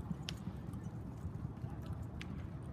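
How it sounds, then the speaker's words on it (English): A near-black racehorse's hooves clip-clop on the track at Churchill Downs at sunrise, soft rhythmic thuds under steady outdoor noise with a low voice. "A near black looking horse heading off this morning as the sun rises at Churchill Downs."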